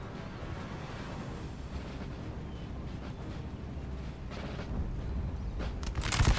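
Musket volley fire in the Napoleon Total War battle game, a dense rumbling crackle of distant massed shots that swells toward the end with sharper nearby bursts.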